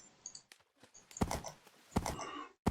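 Hooves clip-clop in a Minecraft game as a ridden mount moves, in irregular sharp knocks with a couple of louder clustered steps, close and alone over near silence.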